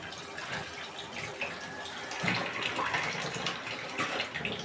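Water poured over prawns in a container in a home kitchen makes a steady, soft rushing splash with no voices.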